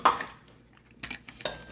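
Butter being creamed with brown and white granulated sugar for Hershey's chocolate chip cookies, with a sharp scrape and clink of a utensil against the bowl at the start, a quieter pause, then renewed brisk scraping and clinking toward the end.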